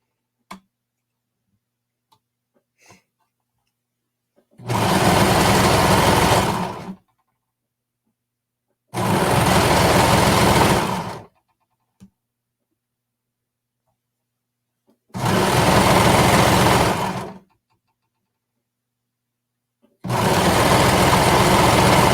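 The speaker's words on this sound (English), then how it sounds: "Now we're just going to sew along down the end here to the side." Sewing machine stitching down a fabric edge, running in four loud bursts of rapid even ticking of about two seconds each, split by silent pauses with a few faint clicks.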